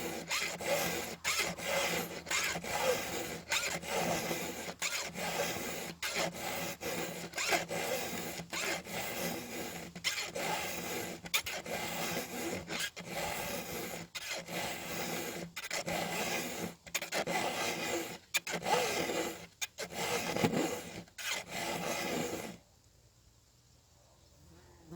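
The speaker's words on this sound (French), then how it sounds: "je vais faire exprès d'aiguiser cette gouge jusqu'à ce qu'on voie bien le travail de la lime sur l'angle latéral" A flat file rasps against the cutter of a new chainsaw chain, sharpening its side angle in quick, even strokes that repeat steadily and close for over twenty seconds before stopping into near silence.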